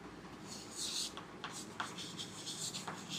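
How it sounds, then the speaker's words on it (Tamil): Pen or pencil writing by hand on paper, soft scratchy strokes in short bursts with small pauses, close and quiet, no talk. "பேச்சு வாக்கில் எழுதுகிறேன்"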